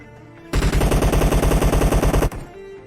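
An M4 rifle in the mobile shooter BGMI fires one rapid sustained burst of about two seconds, loud and close, with the game's background ambience before and after.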